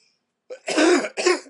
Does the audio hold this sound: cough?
yes